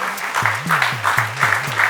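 Studio audience applause on a Malayalam comedy show, a dense, steady burst of clapping filling the short moment, with a faint low musical tone pulsing underneath.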